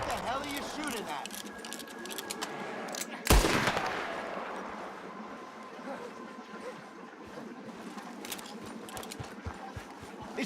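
Gunfire in Red Dead Redemption 2: a loud close shot around the three-second mark, then scattered sharp reports and crackles over ambient game sound, with voices talking through it.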